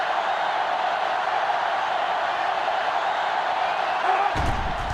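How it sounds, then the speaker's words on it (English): A college football stadium crowd in NCAA Football 06 keeps up a steady, loud roar, with a sharp thump breaking in near the end. "It's arguably the loudest crowd in the nation, and they are turning it up a notch."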